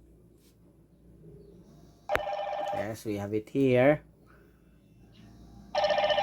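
A GW55 smartwatch rings for an incoming Bluetooth call, sounding as a short electronic tone burst and again near the end, with people talking in between.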